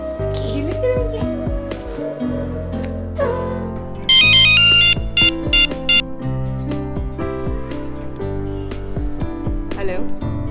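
A phone ringtone for an incoming call plays loud and steady in a domestic drama scene, a looping electronic melody with a bright, higher-pitched burst of tones near the middle before the line is answered.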